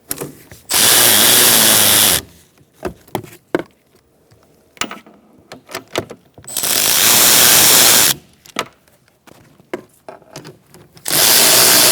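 Power impact tool tightening rear shock and spring assembly bolts on a 2002-2006 Honda CR-V, three loud sustained bursts of whirring separated by clicks and clanks of handling, close by.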